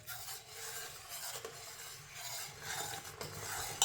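Cardamom powder being stirred into hot jaggery syrup for ariselu, right after the stove is switched off: a steady close scraping and swirling of a spoon in a pot, with faint sizzle, continuous for a few seconds.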